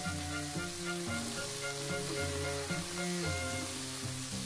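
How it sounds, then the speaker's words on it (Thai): Mixed vegetables with broccoli stir-fry in a hot pan, a steady close sizzle and hiss running beneath loud music. "ผัดต่อครับให้ทุกอย่างสุกพร้อมๆกันเลยครับ"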